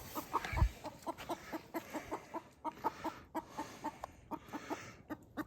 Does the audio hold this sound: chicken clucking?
yes